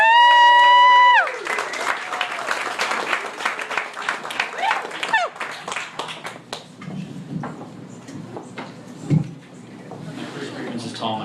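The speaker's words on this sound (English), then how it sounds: "Here's Toku. Round of applause." A comedy club audience gives comedian Toku a round of applause that starts right after a loud musical sting, then tapers off into scattered claps and room noise.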